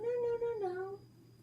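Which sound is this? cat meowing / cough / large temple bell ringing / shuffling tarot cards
cat meowing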